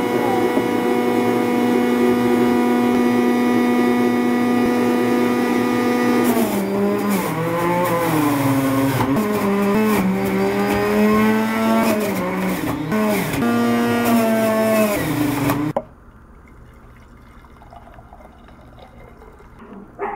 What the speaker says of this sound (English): I'm just gonna throw it in the juicer.